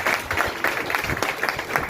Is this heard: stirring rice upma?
no